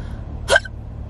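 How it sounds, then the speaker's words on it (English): A woman lets out a single sharp hiccup, brief and close, over quiet room noise. "Oh my God, my hiccups."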